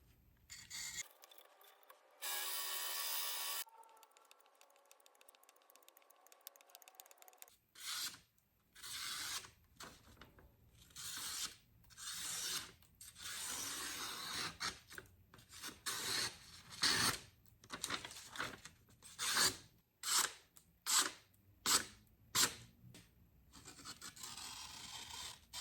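A butter knife is sharpened on a 1000 grit whetstone, rhythmic rasping strokes that grow into a regular series of loud, close scrapes, with a burst of water-like hiss early on and no speech.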